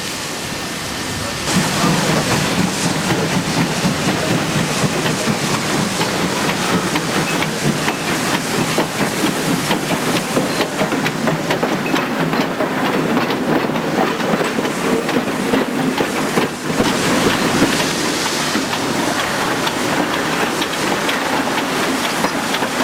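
Steam locomotive laboring with a heavy 1,000-ton coal train in strong winds, its fire badly clinkering: a steady, loud rumbling roar with a dense rhythmic chuffing wash that runs unbroken throughout.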